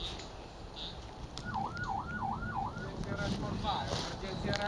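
An ambulance siren wails in four quick rising-and-falling sweeps over steady traffic rumble and wind noise, fairly close.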